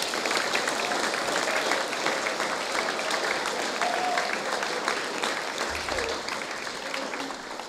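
Steady, fairly loud clapping from an audience at a junior school end-of-year prize giving, a sustained round for a long-serving teacher that continues throughout and tapers slightly near the end.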